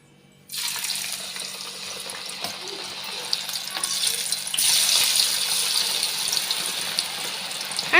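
Cauliflower pieces for a crispy cauliflower chilli drop into hot oil and deep-fry with a steady, close sizzle that starts abruptly, then swells louder midway as more pieces go in, bubbling continuously without talk.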